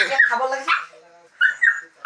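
A dog whimpers and yips in short, high-pitched bursts, a quick run of cries, a pause, then a few more, close by.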